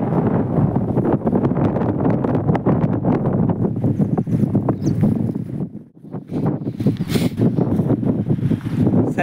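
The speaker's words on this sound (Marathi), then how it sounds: "परत वारं चालू आहे" Strong wind blows outdoors under gathering clouds, a loud continuous roar buffeting the microphone that drops into a brief lull partway through before surging back.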